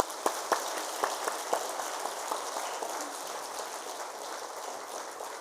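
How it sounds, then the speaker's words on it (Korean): Church congregation at a Wednesday night worship service applauding a visiting pastor, a moderate spread of clapping with a few sharper claps early on, steady and fairly distant throughout. "우리 뜨거운 박수로 맞이하겠습니다"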